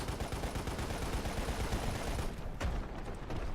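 Gunfire in the Lost Planet: Extreme Condition video game aimed at rocks, rapid automatic bursts rolling continuously at moderate level, with a sharp single shot near the end.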